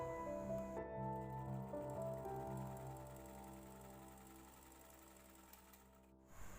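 A sewing machine stitches a joint on a baby umbrella frock, whirring in a steady droning run that gradually eases off, then stops with a brief clatter at the end.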